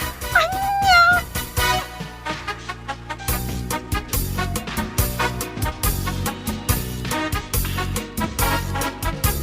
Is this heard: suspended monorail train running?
no